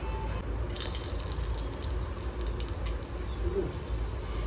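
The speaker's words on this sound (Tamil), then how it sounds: "குக்கர் கொஞ்சம் ஹீட் ஆனதும் ஆயில் விட்டுக்கணும்." Oil goes into a heated pressure cooker while making kurma, starting a bright, hissing sizzle that rises suddenly and carries on steadily close by.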